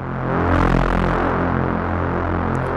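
A reese bass patch in a software synth, with its sub frequencies cut and distortion added, plays one loud, sustained, throbbing low tone with a slowly pulsing, gritty buzz for nearly three seconds and no talk over it.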